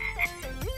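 A person imitates a frog's croak beside a mini-golf course, giving a short, close, throaty rising call less than a second long.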